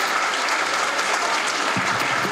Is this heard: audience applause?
yes